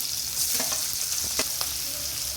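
Onions frying in a hot pan with garlic and seasoning for an amaranth-leaf stir-fry, giving a steady close sizzle with a few soft stirring scrapes; no one speaks.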